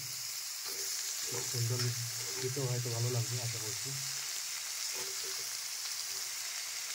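Mutton hisses and sizzles loudly as it fries in a spiced masala in a pan, a steady close frying sound throughout while someone speaks over it.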